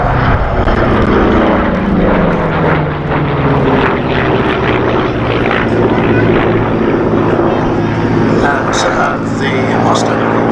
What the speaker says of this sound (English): The Mustang, of course, the fighter that transformed the air war over Germany